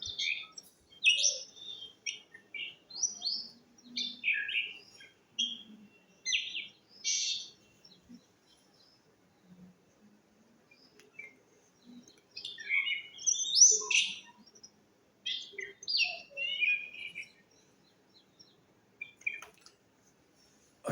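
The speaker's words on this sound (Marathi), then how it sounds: "अशी किलबिल आपल्याला दुपारच्या वेळा" Birds murmur a soft, rambling sub song from dense trees in the midday sun, with short bursts of high chirps and twitters separated by quiet pauses, fairly faint and with no voices.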